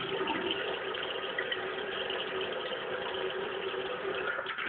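Running water from a tap or shower wetting a shaving brush already holding Vitos pre-shave, a steady close hiss with no voices.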